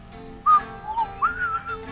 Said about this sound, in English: Sometimes you whistle and it makes stuff like this funner.